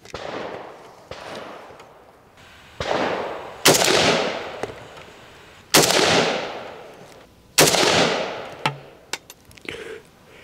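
Rifle shots fired on a 50-metre range ring out as several loud, sharp reports spaced a few seconds apart, each followed by a decaying echo, with lighter clicks and handling noises in between.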